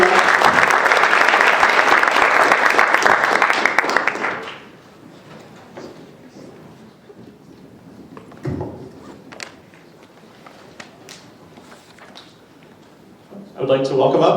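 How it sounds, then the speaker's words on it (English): Audience applause at a District 13 Table Topics speech contest, a dense burst of clapping for about four seconds that stops abruptly, then a quiet room with scattered taps and shuffles before brief clapping returns at the end. "I'd like one more round of applause for all the contestants."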